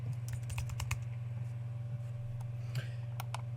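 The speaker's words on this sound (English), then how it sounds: "I'm just double clicking here just to get the whole name here." Computer mouse and keyboard clicks at a desk while working in SPSS, a cluster of quick sharp clicks early on followed by sparse taps, faint over a low steady hum.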